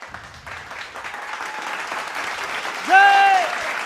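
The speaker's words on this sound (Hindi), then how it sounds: "एक बार उनके लिए बहुत जोरदार तालियां होना चाहिए।" Audience applause for Khandare sir at a 15 August Independence Day gathering in Nagpur, a steady crowd clapping through the whole stretch with a brief whistle-like tone near the end.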